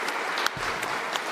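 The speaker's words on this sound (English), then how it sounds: "Let's give them a round of applause." Audience applause from a panel event crowd, a dense steady patter of many hands clapping continuously and fairly loud throughout.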